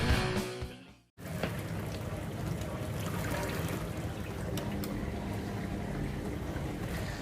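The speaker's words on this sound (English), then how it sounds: "That's the sound of the dishwasher." Steady broadband rush of running water with a low mechanical hum, continuous and fairly close, after a brief muffled start and a short drop-out near the beginning.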